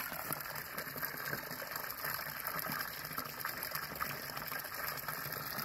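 Water steadily pours and gushes into a tank at a fishing pond, a constant rushing wash that stays even and moderately close throughout, with no voices.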